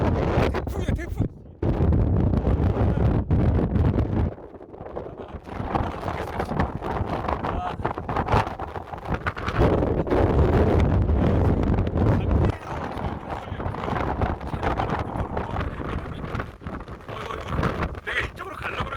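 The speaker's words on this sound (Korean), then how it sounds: "태풍이야, 태풍." Strong gale-force wind on the Seonjaryeong mountain trail roars and buffets continuously across the microphone, with heavy gusts, a few sudden drops, and no voices.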